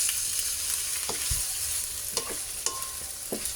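Potatoes sautéing in a pan with bay leaf make a steady, close sizzle, broken by a few knocks and scrapes of stirring.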